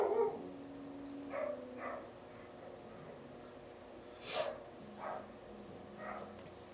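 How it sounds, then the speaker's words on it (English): Neighbors' dogs bark from outside at a moderate distance, several short yips and barks spread out in an irregular pattern over a quiet indoor background. "Those are the neighbors' dogs barking."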